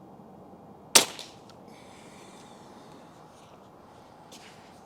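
A Crosman 362 pump air rifle fires a single sharp crack that fades quickly, followed by quiet background and a faint later rattle.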